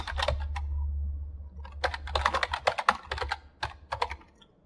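Computer keyboard typing in quick irregular bursts of clicks with short pauses, close and clear over a low steady hum, no voices.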